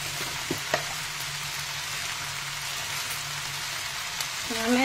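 Ginger paste and spices fry in a pan, making an even, hissing sizzle with a few small pops and a faint clatter near the end, with no talking.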